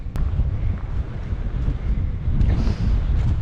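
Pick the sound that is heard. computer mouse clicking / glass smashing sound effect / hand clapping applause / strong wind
strong wind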